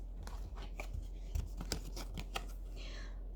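Tarot cards being shuffled and mixed by hand, giving a run of soft, quick papery flicks and riffles, close and fairly quiet, with no talk.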